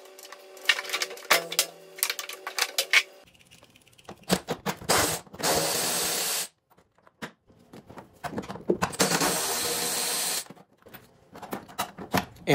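Shock absorbers being unfastened inside a Samsung front-load washer, with bursts of a power driver whirring and rattling in several short runs separated by clicks, scrapes and handling noises.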